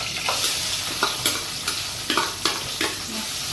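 Onion and whole garam masala fry in hot oil for a mutton dish, a steady close sizzle broken by repeated spoon stirs scraping the pot, with no speech.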